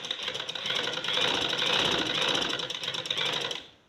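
A sewing machine runs a steady, close, loud stretch of stitching along the edge of a trouser pintuck hem, the motor's rapid chatter holding evenly for several seconds before cutting off at the end.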